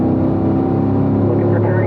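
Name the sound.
race car engine at wide open full throttle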